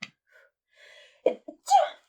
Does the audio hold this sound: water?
no